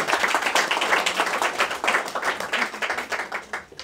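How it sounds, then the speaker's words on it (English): An audience at a press conference in India applauds to welcome two women Nobel laureates, Jody Williams and Shirin Ebadi: dense, steady clapping at moderate volume that carries through to a slight fade at the end. "please join me in welcoming them and giving them loud applause"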